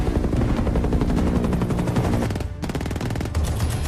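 Sustained machine gun fire blasts toward a helicopter in an action film, a loud, dense rapid stream of shots that breaks off briefly before resuming, with a rotor-like hum beneath.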